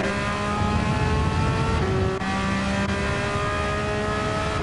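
Race car engine in a sim racing game running rough at speed, a loud sustained drone with shifting pitch lines that dip briefly and recover, steady and close throughout.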